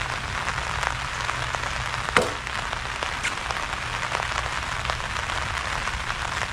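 Rain falls steadily during a concrete pour, a dense continuous patter with one louder splash or knock partway through.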